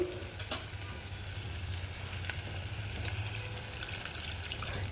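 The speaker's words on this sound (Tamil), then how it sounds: "இப்போ இதில் நம்ம கொஞ்சம் தண்ணி ஊற்றிக்குவோம்" Water poured and stirred into a pan of tomato gravy while cooking a traditional yam mash, a soft continuous sizzling and swishing with a few light clinks, fairly quiet and with no talking.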